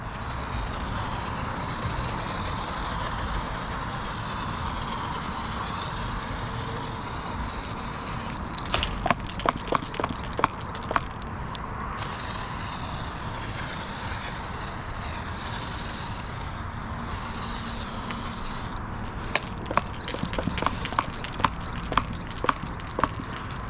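A small hand pump sprayer applies foaming car wash product during a maintenance wash, giving a long, steady hissing spray broken by two bursts of quick rhythmic clicking pump strokes, close and continuous.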